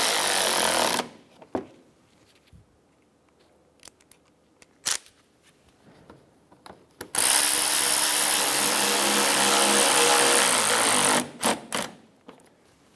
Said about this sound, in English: Install the bottom 2 screws for the front fender liner.